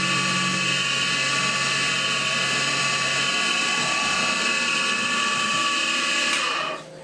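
A high-pitched drill at about 2000 RPM whines steadily as it cuts into aluminum, a bright continuous screech that winds down abruptly at the end.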